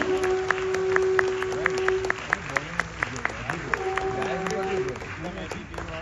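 An audience welcomes Gujarat Chief Minister Bhupendra Patel at a Gujarati American community gathering in New Jersey with a steady patter of applause over a sustained tone, the clapping continuing throughout at moderate loudness.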